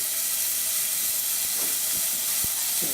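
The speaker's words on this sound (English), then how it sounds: "the object here is to just sweat the shallots, not to brown them" Shallots sweat in butter in a hot pan, giving a steady, fairly loud hiss with a few soft low knocks, likely from a wooden spoon.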